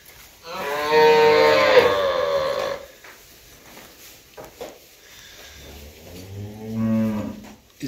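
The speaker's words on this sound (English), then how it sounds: "So these are the young heifers. And the calves." Young heifers and calves on a farm give two loud, drawn-out moos close by, the first long and strong and a softer, shorter one following after a pause.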